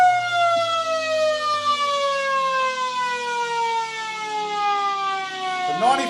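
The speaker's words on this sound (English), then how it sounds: "And there's the siren." A loud, sustained sports ground siren wails with a slowly falling pitch for several seconds before cutting off, ending a country football match, with a crowd murmuring faintly underneath.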